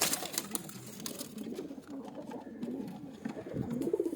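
Pigeons coo softly and repeatedly in a small group kept as mated pairs, with a low murmuring texture and no speech.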